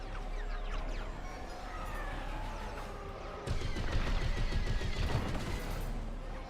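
Blaster fire and sweeping starfighter tones fill a Star Wars video game canyon and Death Star run, then a sudden louder, denser barrage of impacts and rumble takes over partway through.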